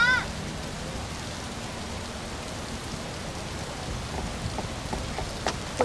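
Heavy rain pours steadily on a street scene in a Chinese romantic drama, a dense constant wash of drops with occasional splashes and no voices over it.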